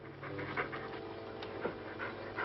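A lion pants and breathes heavily close behind someone, a steady rasping rhythm of breaths with a few louder huffs, near and continuous in an old film soundtrack.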